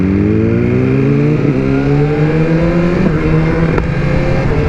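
A BMW M1000RR motorcycle engine pulls hard through rising revs, with brief dips at each gear change, loud and close throughout with no talk.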